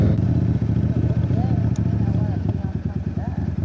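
Loud motorcycle engine rumbling steadily close by throughout, a deep pulsing roar with faint chatter in the background.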